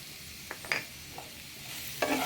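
Tomato, salt and chopped chili stirred in a pan while frying: a few scattered spoon scrapes and clinks over a quiet low sizzle, ending in a louder stir.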